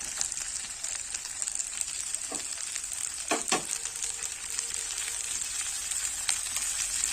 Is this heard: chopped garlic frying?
yes